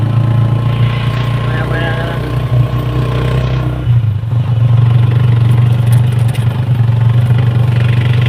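A motorcycle engine idles nearby in a steady low rumble that shifts slightly partway through, while a person speaks briefly over it.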